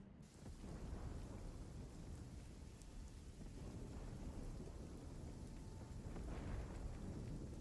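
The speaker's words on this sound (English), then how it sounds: "When it rains, it storms." Steady heavy rain and a low thunderstorm rumble fill the scene in the Runescape: Dragonwilds video game, a continuous wash of downpour with no speech.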